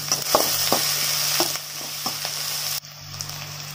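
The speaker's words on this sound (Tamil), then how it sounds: "வெங்காயம் நல்லா வதக்கிக்கலாம்." Onions and curry leaves sautéing in a pan for a fish puttu dish, a loud continuous sizzle with light stirring taps that cuts off abruptly near the end; no one speaks.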